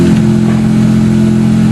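A loud, steady engine drone from a video game bike holds an even, buzzing pitch with no pauses. It is heard up close, on its own and without voices.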